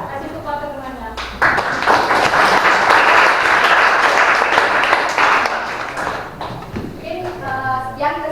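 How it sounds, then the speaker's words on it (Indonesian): A classroom audience claps for a presentation, with a loud, dense burst of applause rising after a spoken line and lasting about five seconds before voices return. "Ya, kasih tepuk tangannya."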